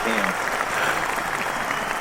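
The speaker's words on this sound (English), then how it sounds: "An astounding round of applause." A comedy show audience gives a round of applause, a busy, crackling spread of clapping at steady volume, with a voice briefly audible underneath at the start.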